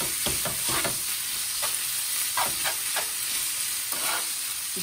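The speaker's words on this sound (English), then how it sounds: "Meanwhile, our ham is continuing to cook." Ham frying in a pan for a baked pasta dish with double cream and cheese, a steady sizzle broken by several scraping stirs of a utensil against the pan.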